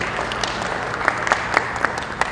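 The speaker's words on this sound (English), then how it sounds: "Let's give a round of applause to MTN." Audience applause at a matric awards ceremony as company representatives are called up; a steady patter of many hands clapping with a few sharper individual claps standing out.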